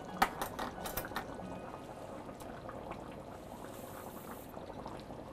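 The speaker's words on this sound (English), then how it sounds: "I'm going to turn it down to simmer" Chicken cacciatore simmering in a pot, a soft steady bubbling and liquid burble with a few faint clinks near the start, quiet and close, with no voices.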